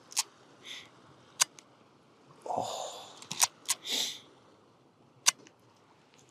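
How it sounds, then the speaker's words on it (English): A Leica M4 film camera worked by hand, its cloth shutter firing in sharp isolated clicks between ratcheting film-wind strokes, close and quiet with a brief exclamation from a voice. "how satisfying the film wind and shutter feel is on this camera"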